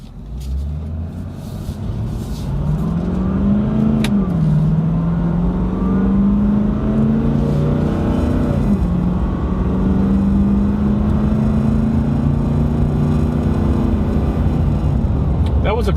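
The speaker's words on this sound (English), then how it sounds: "That was acceleration to 65." A 2016 Nissan Titan XD pickup with a Cummins diesel engine accelerates to highway speed, heard from inside the cab. Its low engine note climbs and wavers through gear changes over a steady road rumble.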